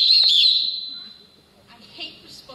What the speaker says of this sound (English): I hate responding to these whistles.